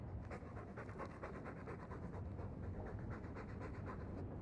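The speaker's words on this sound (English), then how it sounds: "All that noisy dog breath" A dog pants steadily in the video game Dragon Age II, a quiet, continuous rhythm of rapid breaths that stays close and soft throughout with no voices over it.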